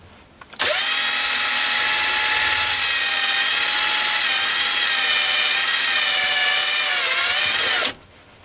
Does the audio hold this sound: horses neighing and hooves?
no